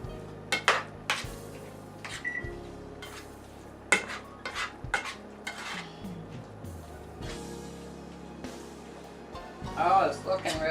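A tablespoon scrapes and clinks against a dish while taco filling is stirred in an air fryer oven, with several sharp metallic taps amid steady kitchen noise, and a person talks over it.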